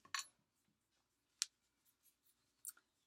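Scissors snip yarn on a crocheted beanie hat, a few quiet, crisp clicks and snips spaced irregularly, close but faint against near silence.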